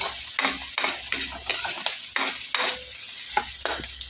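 Garlic, onion and ginger sautéing in a hot pan, a steady sizzle broken by a rhythmic series of scraping stirs, close and clear with no voices.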